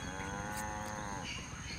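Cows moo loudly on the Moo Meadow track in Mario Kart 8 Deluxe, a drawn-out bovine call filling the short stretch over steady game music and engine noise.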